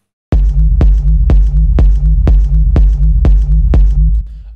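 A techno rumble kick in FL Studio pumps with a sidechain preset, thumping eight times in a steady, loud, booming pulse with a deep rumbling tail between hits, ending in a low decay.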